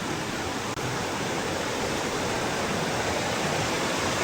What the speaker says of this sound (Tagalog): Ganito ang baha dito, no? Yung malakas ang agos ng mga sapa.